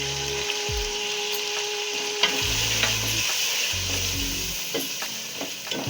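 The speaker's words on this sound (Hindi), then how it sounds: "अदरक लहसुन के पेस्ट को सिर्फ चलाना है हमने" Ginger garlic paste with ground chilies, coriander, turmeric and salt fries in oil for a beetroot mutton curry, a constant close sizzle under rhythmic spatula scraping and occasional sharp clicks against the pan.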